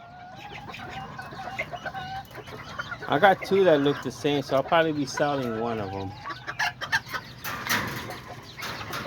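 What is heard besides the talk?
hens and roosters clucking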